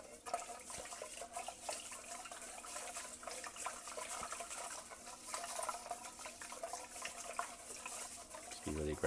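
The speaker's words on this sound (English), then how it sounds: "Just be really aggressive with the rice as we're washing it here." Uncooked rice is swished hard by hand in a bowl of tap water to rinse off starch, giving a continuous watery sloshing and trickling with small splashes throughout, nearby and steady.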